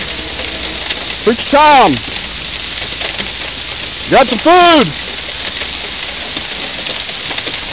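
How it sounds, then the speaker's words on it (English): Steady rain pours during a lightning storm at an outdoor food handout, a broadband hiss running throughout, while nearby voices speak in two short bursts. "Why'd you make it rain?"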